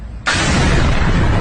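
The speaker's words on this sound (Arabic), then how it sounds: "هنا مبنى تابع لوزارة الدفاع الإيرانية هو يتعرض للقصف بطائرة مسيرة." Explosion from a drone strike on an Iranian defense ministry building: silence, then a sudden loud blast at about a quarter second that becomes a sustained, dense roar of rumble and debris lasting to the end.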